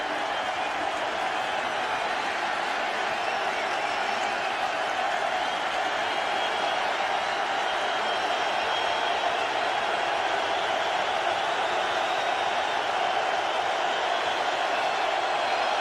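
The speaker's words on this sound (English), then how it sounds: "The crowd noise picks up." A packed football stadium crowd at a Vikings home game roars steadily, a dense, far-reaching wash of voices and cheering that holds loud throughout and swells slightly.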